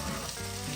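Broccoli frying in a pan at a snowy campsite in the Rockies gives off a faint, steady sizzle that lasts only a moment.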